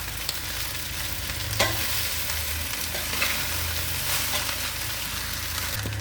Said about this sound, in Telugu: ఇలా చక్కగా కలిపేసుకుందాం.